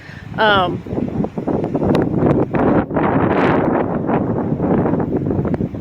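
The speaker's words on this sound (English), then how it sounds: "The wind will blow, on an average, it'll blow pretty hard" Wind buffets the microphone in rough gusts while a person talks over it nearby.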